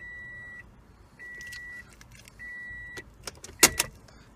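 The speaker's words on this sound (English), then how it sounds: "Switch ignition on." Switching on the ignition of a 2016 Toyota Corolla brings three steady, repeating electronic chime tones, followed by sharp clicks and keys jangling close by in a quiet cabin.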